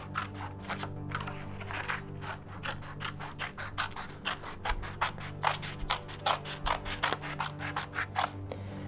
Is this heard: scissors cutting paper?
yes